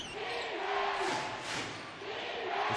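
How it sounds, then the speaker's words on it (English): Crowd noise at a FIBA Basketball World Cup 2019 Asian qualifier between Japan and Chinese Taipei, a broad, steady roar of fans at moderate level that swells in the middle. "This crowd is into it."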